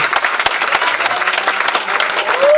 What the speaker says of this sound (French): On peut acclamer le Seigneur et notre papa Boutou. Acclame bien.